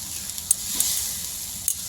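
Sesame eggplant sautéing in oil as coriander leaves go in, a steady soft sizzle and hiss with a few light clicks of a spoon against the pot, close and fairly quiet.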